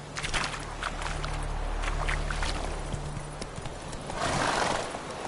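Roach, the horse from The Witcher 3, whinnies near the close while hooves clop steadily throughout, close and clear over a low constant hum.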